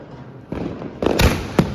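A spinning ground firework, a "merry-go-round" type lit during Diwali, fizzes and then bursts with a few sharp cracks and bangs, loud and close.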